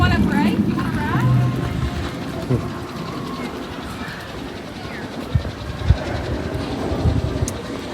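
A train ride rumbles at Dollywood theme park during the daytime Harvest Festival, with steady loud rolling noise, a few sharp clacks and knocks, and a busy crowd murmuring throughout.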